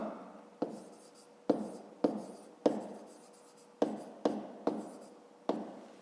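Handwriting on paper while working a fifth-grade math exercise: about nine distinct, quiet pen strokes, each a short scratch that fades, spaced irregularly across a few seconds with no talking.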